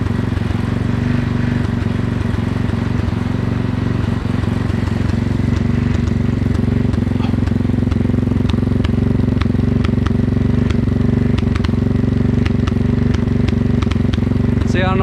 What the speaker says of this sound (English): I'm not sure what all the misfiring's about.